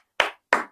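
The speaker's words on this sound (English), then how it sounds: "it really deserves a round of applause for that" Two sharp hand claps sound close and clear, evenly spaced and unaccompanied.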